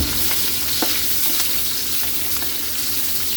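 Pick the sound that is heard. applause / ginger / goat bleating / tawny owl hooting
ginger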